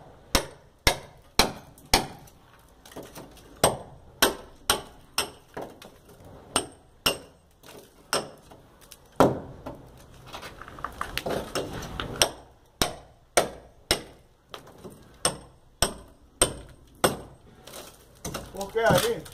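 Repeated hammer blows strike the side of a masonry wall while a door opening is being cut, sharp evenly spaced knocks running steadily throughout with a brief scraping, chipping stretch in the middle and a voice occasionally underneath.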